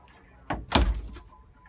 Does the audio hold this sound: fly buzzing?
no